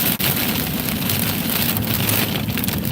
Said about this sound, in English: Got a lot of heavy rain out here.